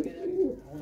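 A single pigeon gives one brief, low, drawn-out coo at close range, moderately loud, with no other sound around it.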